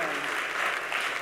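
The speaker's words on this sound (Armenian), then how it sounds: "Եկեք ծափարենք Անուշավանին" Audience applause for a contestant on an Armenian comedy contest show, a dense continuous wash of clapping from a studio crowd, steady and fairly loud throughout.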